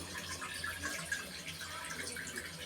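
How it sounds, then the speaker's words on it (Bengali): Water poured into a pan to start sugar syrup for jibe goja, a faint close trickle and splash running for a couple of seconds with no voices. "প্রথমে পানি দিয়ে দিলাম"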